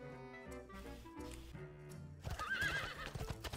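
A horse in the card video game Hearthstone lets out a loud neigh, joined by clip-clopping hooves over layered game music and effects, with no talking.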